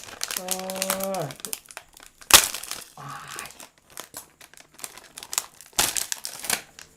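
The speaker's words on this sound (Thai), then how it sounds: "เดี๋ยวเรามาแกะทีละห่อกันนะครับ" A plastic wrapper of crispy baked seaweed snack crinkles and crackles as it is torn open, close and loud in irregular bursts, with someone speaking over parts of it.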